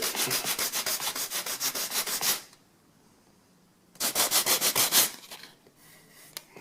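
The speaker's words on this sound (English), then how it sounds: "with the sanding block, 80 grit" Rapid back-and-forth rasping of an 80-grit sanding block on a wood crown molding joint, two bursts of steady rhythmic strokes separated by a quiet pause, close and fairly loud.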